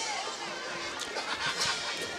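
A crowd at a high school homecoming football game, Dunmore at Carbondale, fills the evening air with steady distant chatter and babble, low and continuous, with a few louder murmurs near the end.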